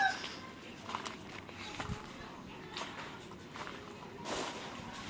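Chickens clucking softly in a yard, with a few scattered short clucks and light scratching or footstep sounds over a quiet background, fairly faint and intermittent.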